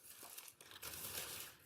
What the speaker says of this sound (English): you unwrap the last bit.